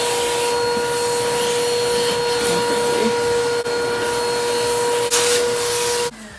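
A vacuum cleaner runs steadily with a high whine and airy roar, close and loud, during woodworking, then cuts off abruptly near the end.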